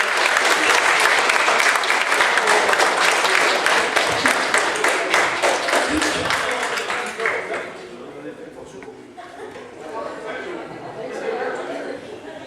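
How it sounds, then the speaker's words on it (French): Audience at the Anima 2010 cosplay awards ceremony applauds the individual winners: loud, dense clapping for about seven seconds that then fades to scattered claps and murmuring crowd chatter. "On applaudit très fort les grands vainqueurs en individuel"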